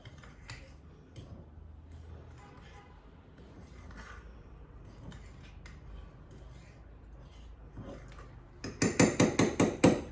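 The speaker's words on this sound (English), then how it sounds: "Again I am going to mix this material gently." Vanilla mug cake batter is stirred in a mug, with quiet scattered clinks under soft music, then a closing burst of quick, rhythmic taps against the mug.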